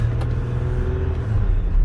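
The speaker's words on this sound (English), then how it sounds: "Listen to that clatter. It sounds just like a damn Power Stroke or Cummins." A 2021 Jeep Gladiator 4x4 diesel engine idles with a loud, close, steady low rumble and clatter through a short burst, with no talking.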